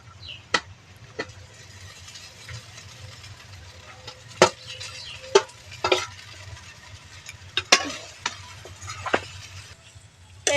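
Boiled chow mein noodles with spices being stirred in a hot pan, producing a soft background sizzle broken by irregular sharp scrapes and clanks of the utensil against the metal, close and alone.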